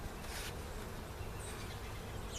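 Honey bees hum steadily around an open hive during spring brood box rotation, a continuous, fairly close buzzing swarm with no speech over it.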